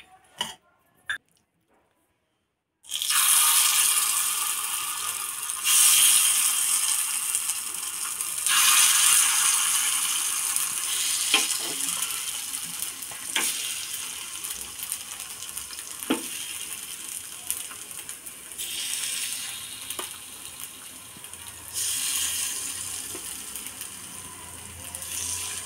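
Lentil appe batter sizzles steadily and loudly in a hot appe pan, a dense continuous hiss that starts abruptly after a short quiet opening, with occasional faint metallic clinks and no talking.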